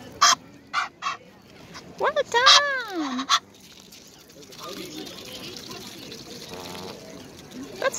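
Egyptian geese and coots honking beside the water in London's Regent's Park, with several loud, close honks and calls in quick bursts over the first few seconds, then softer ambient water and birds while a person speaks briefly.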